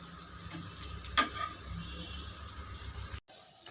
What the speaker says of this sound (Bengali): আমি সবগুলোকে উল্টে দিয়েছি দিয়ে আবারও ঢাকা দিয়ে অপর পিঠটা ভেজে নেব